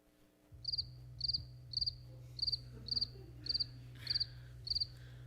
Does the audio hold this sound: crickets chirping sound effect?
yes